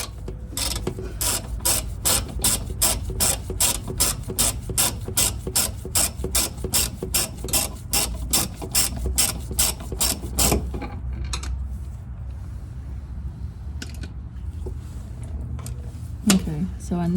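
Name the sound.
ratchet undoing bolts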